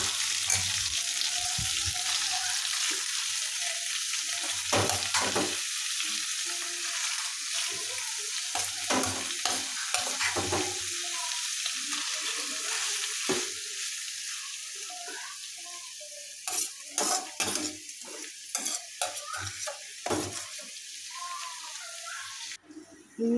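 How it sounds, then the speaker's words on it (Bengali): Beef tripe frying in a wok with a little oil, giving a constant close hiss broken by frequent scraping and clattering stirs that grow choppier toward the end. "বট ভাজা করতেছি"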